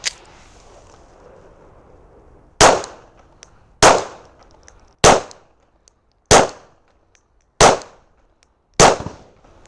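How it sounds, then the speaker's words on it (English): Six sharp, loud shots from a Glock 42 .380 ACP pistol at an outdoor range, fired at a steady pace about a second apart, each crack followed by a short decaying echo. "Thank you for joining me out here on the range to shoot this little Glock 42."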